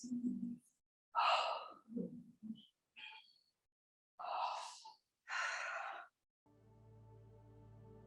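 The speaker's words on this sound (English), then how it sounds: "take a few deep breaths" Slow, deep breaths during a core-stability yoga stretch: several long, audible inhales and exhales close to the microphone, separated by pauses, followed by a faint steady hum at the end.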